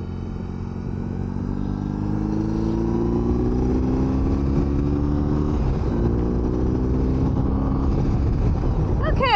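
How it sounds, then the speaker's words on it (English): A motorcycle cruises along a highway, its engine droning loud and close under steady wind rush, with its pitch rising and falling through gear changes. "hop on the bike and see how this works."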